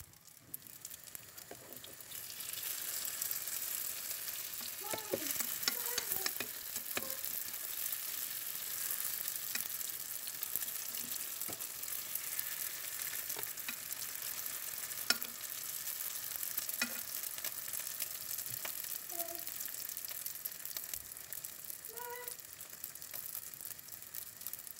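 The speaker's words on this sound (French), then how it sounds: "je pose mes briques et je fais cuire de chaque côté jusqu'à ce qu'elles deviennent dorées" Brick pastries fry in hot oil in a pan, a soft, continuous hiss of bubbling oil with occasional faint pops and light clinks, fairly quiet and without talk.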